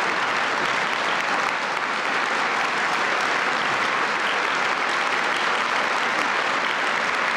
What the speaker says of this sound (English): can we all give them a first round of applause to practice?